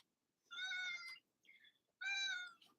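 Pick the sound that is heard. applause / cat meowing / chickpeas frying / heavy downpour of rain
cat meowing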